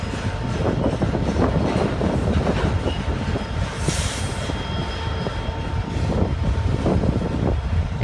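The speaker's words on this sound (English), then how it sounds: "This train is gonna stop like before." A Norfolk Southern freight train rolls along the rails nearby, a loud continuous rumble with rhythmic wheel clatter and occasional higher squeaks, no talk over it.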